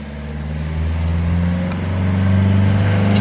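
A car goes by close at hand on a town road, its engine hum rising and swelling steadily over a few seconds, loud and with no talk over it.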